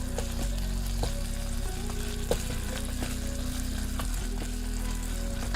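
Ground beef browning in a pan while cooking spaghetti sauce, a steady close sizzle and frying crackle with occasional stirring scrapes, no voices.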